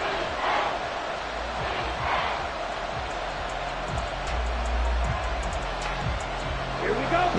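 A stadium crowd at an Atlanta Falcons game in the Madden 24 football video game roars as a steady wash of cheering. It sits under a commentator's voice throughout, with a few louder swells.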